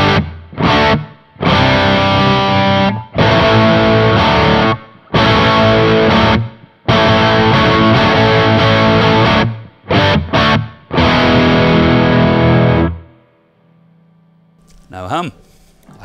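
Distorted electric guitar with Kinman P90-bucker noiseless pickups, neck position, through a Laney amp's dirt channel, playing loud, crunchy chords in bursts with short pauses, ending in a ringing fade and a brief low noise.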